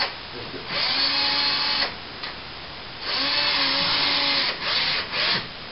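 A cordless power drill drives screws up into a ceiling during a plaster hole repair, whining in two long close bursts with shorter ones after, a voice talking over it.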